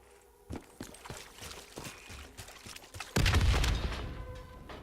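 Explosion in Call of Duty: Black Ops III nightmare mode during a breach. Scattered thuds and crackling gunfire come first, then a sudden loud, sustained blast that rumbles and fades.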